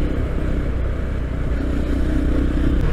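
KTM Duke 390 BS6 motorcycle ridden on the way to a highway, a steady loud engine drone with wind rush throughout, no talk.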